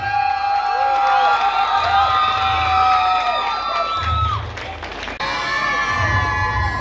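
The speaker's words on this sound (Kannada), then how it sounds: "ಚಪ್ಪಾಳೆ" A crowd at a dance flash mob event cheers and shouts continuously, with high whoops and children's voices riding over a steady roar of noise.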